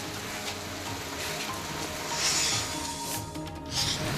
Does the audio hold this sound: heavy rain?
yes